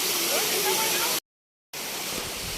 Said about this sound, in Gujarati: આપણે આવ્યા પાવાગઢના જે ઉપરથી ધોધ પડે છે ને તે જગ્યા પર